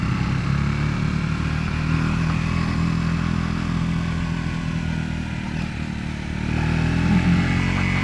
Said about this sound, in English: I'm going up a fairly steep hill, and I'm not noticing the engine bogging down or anything trying to get up it.